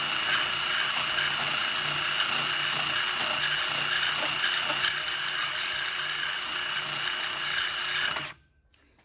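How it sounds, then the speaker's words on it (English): A carbide burr bit on a rotary tool grinds inside a Subaru WRX intake manifold, a continuous high whine with rough scratchy grinding texture, close and loud, then cutting off abruptly near the end. "just 1 second of just using the carbide burr bit in there, and it's already making a ton of gouging"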